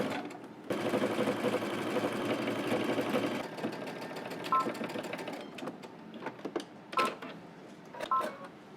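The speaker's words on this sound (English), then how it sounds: "We're gonna stitch, starting on one side, going all the way across to the other end." A sewing machine stitches a cardigan waistband seam with a 5/8 inch allowance in one long continuous run that then tapers into short stops and starts, with a few small clicks near the end.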